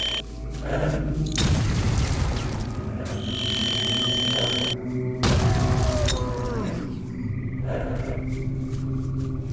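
A grenade detonates in the video game STALKER amid layered game sounds: a booming blast with crackling debris, tonal alarm-like beeps and shifting ambient noise.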